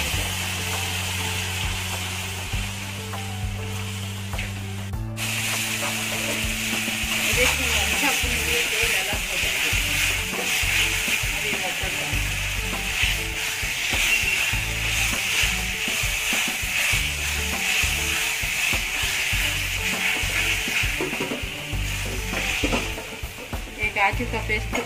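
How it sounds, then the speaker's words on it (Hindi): Ground tomato paste sizzles and hisses steadily while being fried, for a matar paneer curry, with stirring scrapes and clatter throughout; a steady close frying hiss runs over a low hum at the start. "अब इसको जब तक भुनना है जब तक इससे तेल अलग नहीं हो जाए।"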